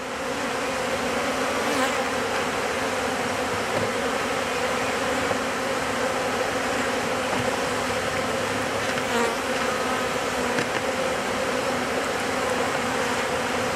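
A massive honeybee swarm buzzes around hive boxes in a dense, continuous drone, loud and close with no letup, individual bees occasionally passing nearer.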